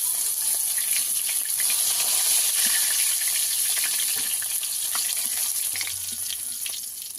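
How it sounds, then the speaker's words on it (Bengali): Fish fry in hot oil with a continuous bright sizzle and crackle, close up and steady, with no voices. "বাকি মাছগুলো ভেজে নেব"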